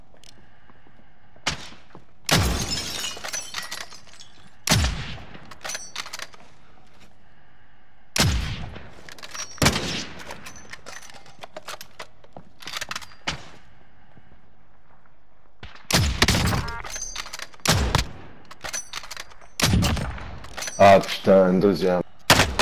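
Bursts of gunfire and impacts in a Call of Duty: Modern Warfare match come in irregular clusters separated by quiet gaps, loud and close, with a player's voice talking over parts of it.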